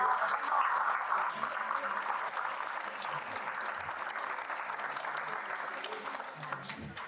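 Sustained applause from an audience at a fundraising evening, steady clapping throughout that gradually thins slightly toward the end.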